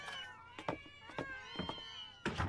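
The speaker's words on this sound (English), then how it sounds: "Kitties, kitties, kitties! And more!" Several anime cats meow in quick succession, bright high-pitched mews of varying length overlapping one another, close and clear with no talking.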